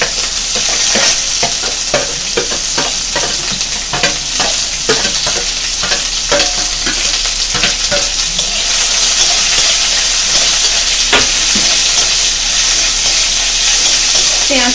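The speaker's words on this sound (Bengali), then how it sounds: "পেঁয়াজটা একটু লালচে করে ফ্রাই করে নেব।" Chopped raw onion sizzles steadily in a pan over low flame while a spatula repeatedly scrapes and stirs with sharp clicks. The frying hiss is loud and close throughout, and no one speaks.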